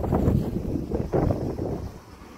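Strong wind buffets the microphone outdoors in loud, rumbling gusts that swell and ease over a couple of seconds, with no other sounds standing out.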